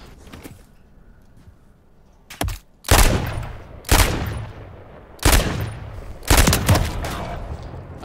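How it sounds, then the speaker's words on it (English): Pistol gunfire in Call of Duty's Gunfight mode: sharp, loud single shots, several spaced a second or so apart, the later ones in quick pairs, with quieter game ambience between them. "The pistol's getting used."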